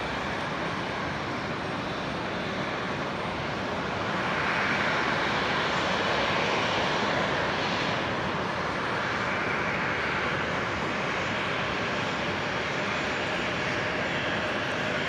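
Aircraft engines droning steadily at Brisbane Airport, two planes holding on the taxiway, including a Link Saab and a Qantas Embraer; the broad, continuous roar stays loud and even throughout.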